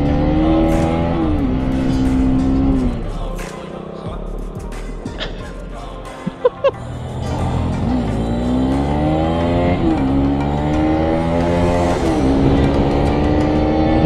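A motorbike engine on a road revs and drones loudly and continuously, rising and falling in pitch, with a few sharp clicks partway through.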